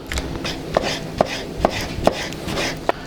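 A knife chops beef heart thinly on a cutting board in a steady series of sharp knocks, about five close strikes at an even pace, no voices.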